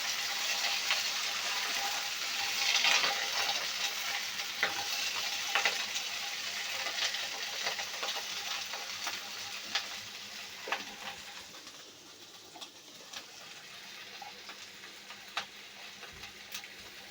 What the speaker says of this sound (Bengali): এবার নেড়ে চেড়ে ভেজে নেব।